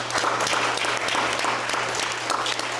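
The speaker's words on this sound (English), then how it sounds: "give Mr. Navik another round of applause, please" Steady applause from an audience at a city council meeting, dense clapping sustained at an even level throughout, with no voices breaking through.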